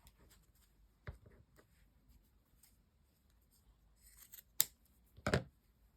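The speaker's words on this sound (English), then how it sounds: "I think we'll just cut a smidgen off that." Scissors snipping thread and fabric up close, a few quiet, separate sharp cuts spread out with soft rustling between them in an otherwise hushed room.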